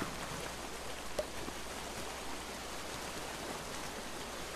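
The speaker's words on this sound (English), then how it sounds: "So it looks like the storm got too bad." Steady storm rain in the VR game Raccoon Lagoon, an even wash of rainfall with no letup and one faint tick, heard alone.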